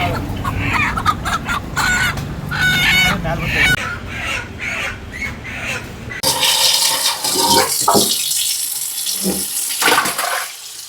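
Hens cluck loudly and repeatedly up close, with a rooster crowing among them and a noisy, shifting background.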